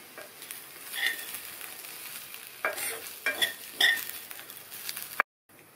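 Beans poriyal being mixed in a pan after the stove is switched off, heard as a light, close sizzle with scraping stirs and a few crisp clinks of the spoon against the pan.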